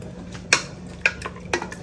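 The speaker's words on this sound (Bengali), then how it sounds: "এবার ভালো করে আমরা এটাকে কষাবো। এতে দেখো এবার আমরা মটনটা এরকম করে কষাচ্ছি।" A spoon scrapes and knocks against a pot while mutton is stirred and sautéed in spice masala, three sharp metallic clinks about half a second apart over a faint low hum.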